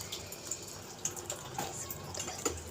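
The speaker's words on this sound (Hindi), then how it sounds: "तो अब इसे गिलासों में शिफ्ट करते हैं अपने" Amlok milkshake being poured into glasses, a soft, steady liquid trickle with faint splashes and drips, fairly quiet and close, with no voices.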